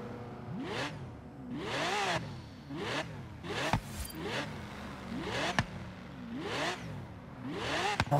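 In Forza Horizon 3, a 2011 Lamborghini Gallardo LP 570-4 Superleggera is revved repeatedly while standing still. About seven sharp throttle blips rise and fall in a steady rhythm, with the loud, close exhaust barking on each one and no talk.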